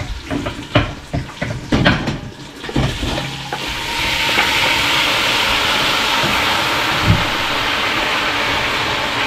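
Loud sizzling bursts out as meat for feijoada hits a hot pot, after a few clanks and knocks, then settles into a steady, hissing fry.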